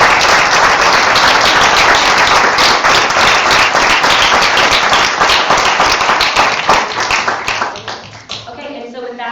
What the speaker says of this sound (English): So if we can all give them a round of applause.